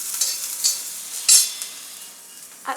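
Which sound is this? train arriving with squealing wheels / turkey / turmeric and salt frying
turmeric and salt frying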